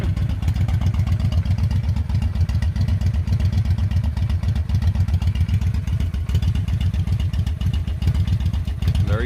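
A Honda Shadow 750 motorcycle engine runs steadily at a loud, close idle with a rapid, even pulsing beat and mechanical clatter throughout.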